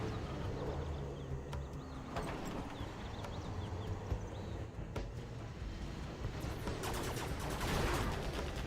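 Sniper gunfire in C&C Zero Hour, sharp, sparse cracks scattered irregularly through a dense, busy battle soundscape of rumbling and clatter, with no talking.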